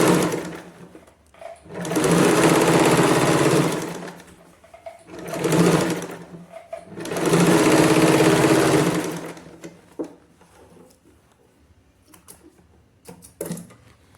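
A sewing machine topstitches a katori blouse neckline in bursts, with three long loud runs of rapid stitching separated by pauses and a few short taps near the end.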